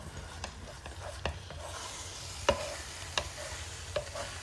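Scrambled eggs pushed around in an electric skillet: a soft, low sizzle with a few scattered scraping taps from the utensil, faint and close, without speech.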